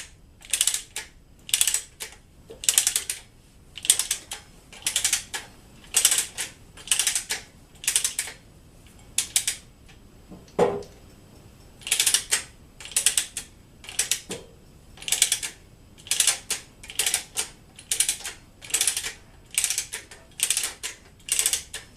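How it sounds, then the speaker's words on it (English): Jack screw raising the column of a Bridgeport milling machine, a close series of rhythmic ratcheting clicks in short bursts with brief pauses between them, no talking. "that's the jack screw coming up through the bearing"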